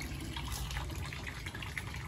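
Hot water poured off from a cooking pot, a soft continuous splashing trickle heard faintly and close for a couple of seconds.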